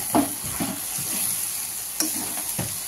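Cabbage and fish head frying in a pan for a Bengali chorchori, a steady close sizzle with a few scraping stirs of a spatula against the pan.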